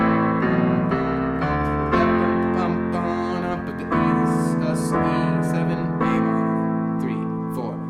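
A piano plays a repeating riff over sustained chords, notes moving in a steady rhythm, close and full, with no talking.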